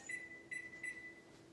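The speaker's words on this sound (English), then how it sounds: "Set my timer for 30 minutes." Kitchen timer gives three short, thin electronic beeps in quick succession, faint and close, alone in a quiet kitchen.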